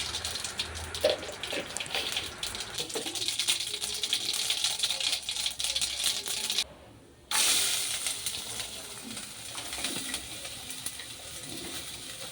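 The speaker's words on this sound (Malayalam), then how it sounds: "എണ്ണ ഒഴിച്ച് കടുക് പൊട്ടിച്ച്" Dense crackling and popping of mustard seeds spluttering in hot oil, a steady sizzling patter that briefly drops out before resuming.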